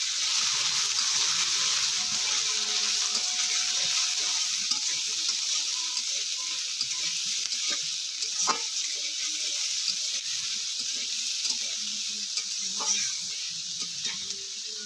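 Potato and onion fry together in hot oil in a pan, a steady close sizzle that carries throughout with a few faint clinks.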